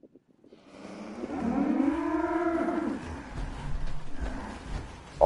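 A single long, deep moo from a cow in the video game Fallout 4, rising and falling over a few seconds against quiet background noise.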